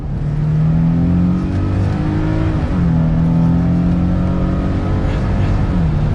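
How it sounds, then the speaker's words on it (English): A 2022 Nissan Frontier Pro-4X pickup accelerating in second gear in manual mode, its engine droning loud and close from the cabin, pitch climbing steadily with a brief dip around a shift before rising again. "We're gonna go down to 2nd gear and give it some gas here."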